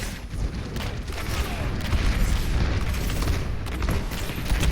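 Pharah's ultimate rocket barrage in the Overwatch video game brings a dense, continuous stream of rapid rocket explosions and booming impacts. The blasts stay loud and busy throughout and build slightly toward the end.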